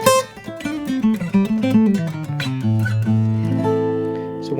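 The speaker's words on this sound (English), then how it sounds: "And for electric, I use this Dunlop Jazz 3," Electric guitar picked with a Dunlop Jazz 3 pick, a quick run of clear plucked notes that slows and settles into sustained ringing tones, close and alone with no talk.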